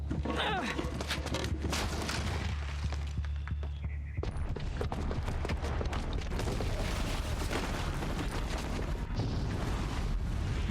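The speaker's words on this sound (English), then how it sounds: "Your generic action movie explosion as characters are running away." A bomb set off by a booby trap explodes in Horizon Zero Dawn as characters flee, giving dense crackling blasts and debris that stay loud throughout, mixed with a game soundtrack and a brief low rumble.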